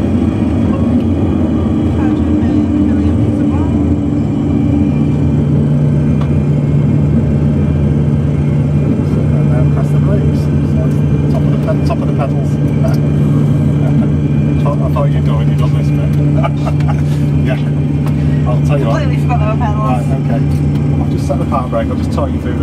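An aircraft engine in a flight simulator game rumbles steadily at close range while its power is brought all the way back, a loud continuous drone holding level throughout.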